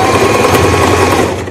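A sewing machine stitching a shirt collar runs as a steady, close, continuous mechanical whir with no pauses and no talk.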